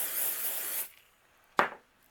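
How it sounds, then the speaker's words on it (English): Pixie spray adhesive sprays out in a close, sustained hiss lasting almost a second, followed after a pause by one short, sharp burst. "I'm going to go ahead and use my pixie spray and add that behind my layer here."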